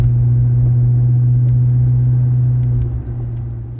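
Maserati Quattroporte engine rumbling steadily and loud up close under acceleration, a deep sustained drone that eases slightly near the end, with no voices.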